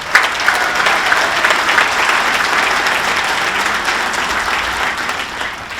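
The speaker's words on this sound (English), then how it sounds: "Give them a round of applause." Steady, dense crowd applause fills a hall of fame induction ceremony at the St. Joseph Area Sports Hall of Fame, continuous and loud from start to finish with no voices over it.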